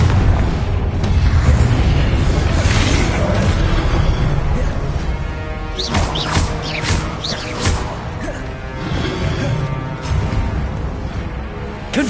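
Repeated blasting spell explosions in Hogwarts Legacy, a fantasy video game, boom through a dense, continuous wash of loud game effects and music, with sharper bursts clustering midway.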